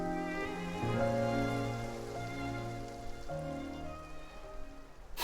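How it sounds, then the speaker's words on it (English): Steady rain pouring in a video game scene, a dense continuous hiss over a low ambient musical drone, with no voices. "It rained for longer than I suspected."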